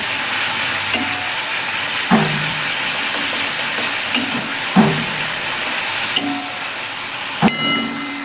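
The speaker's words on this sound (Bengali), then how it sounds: "দিয়ে দিলাম পোস্ত বাটা। ভালো করে কষিয়ে নেব।" Red chilli powder and poppy seed paste frying with spices in a pan, a steady sizzle broken by several sharp clinks and scrapes of a spoon against the vessel at irregular intervals.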